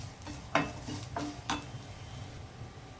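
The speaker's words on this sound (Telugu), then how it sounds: "ఈ సేమియాలు కూడా చక్కగా వేగాయి కదా" Vermicelli roasting in a pan on the stove, a soft background sizzle with a few light scrapes and clinks of a utensil stirring against the metal, fairly faint and without speech.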